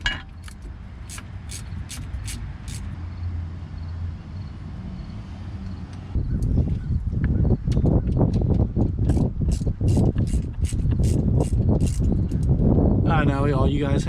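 A hand ratchet with an 8mm socket loosens drive shaft bolts on a Jeep. After a quiet opening it turns into a run of close, rapid, sharp metallic clicks that continues to the end, with a voice faintly in the background.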